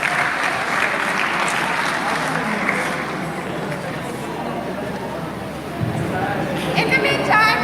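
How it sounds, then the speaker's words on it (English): Audience applause at a national spelling bee finals for a contestant on stage, a continuous clapping wash mixed with crowd murmur and voices, heard from the hall at moderate volume. "Please give a round of applause for Barhama"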